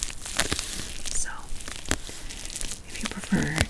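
Crinkly plastic packaging from a SHEIN jewelry haul rustles and crackles up close in irregular bursts, with a few sharper tearing-like crackles and faint soft-spoken sound under it.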